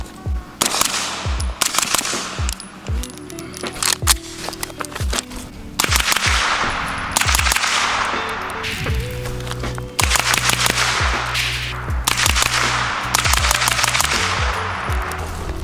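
Suppressed Sig Sauer MPX Gen 3 with an 8-inch barrel and a Dead Air Wolfman can in short configuration, fed from a 35-round magazine, fires repeated bursts and rapid strings of shots. The reports are loud and sharp and keep going throughout.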